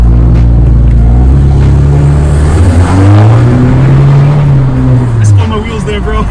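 A 10th-gen Honda Civic 1.5L turbo with resonator and muffler deleted roars loudly up close. Its raspy exhaust revs rise and fall in pitch while people talk over it.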